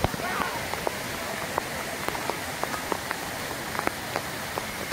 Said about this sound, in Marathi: थोडा पाण्याचा फोर्स वाढतोय, पाऊस पडतोय म्हणून.